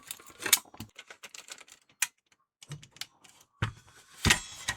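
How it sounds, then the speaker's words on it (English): A sticker is peeled off a Palit GTX 1050 Ti StormX graphics card in crackly, uneven bursts of tearing and clicking, with short quiet gaps between pulls. "I'm having a bit of a tough time getting that sticker off."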